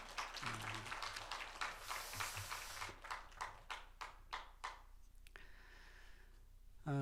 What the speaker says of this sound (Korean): 우리 박수로 우리 환영하십시다.